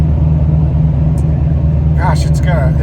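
A 2000 Chevrolet Silverado 1500 pickup with 281,000 miles cruises along, its low, even engine and road rumble droning continuously from inside the cab.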